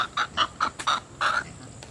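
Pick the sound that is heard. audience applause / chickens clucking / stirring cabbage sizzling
chickens clucking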